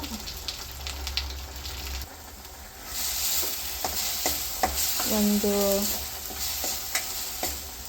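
Ground masala tipped into hot tempering oil with curry leaves for radish sambar, a loud close sizzle with repeated scraping stirs of a spoon against the pan and a brief metallic clink.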